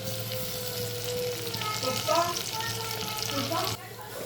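Onion with ginger-garlic paste and coriander sautés in a pan for a village-style chicken curry, a steady, close sizzle and crackle with faint stirring scrapes throughout, no voices.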